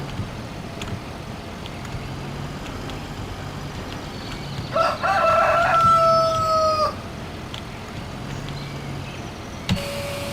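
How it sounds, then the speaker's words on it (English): Rooster crowing with chicken clucks in Farming Simulator 2013, a farm video game; a clear crow rises mid-clip over steady low ambient game noise, with no talk. "There's your chickens."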